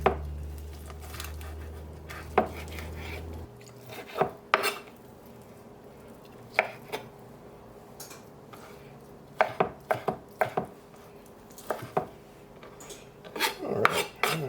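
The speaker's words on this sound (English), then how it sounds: "And we are going to dice the ham." A knife dices ham on a board in scattered, irregular strikes, some in quick bursts, with a low hum fading out early.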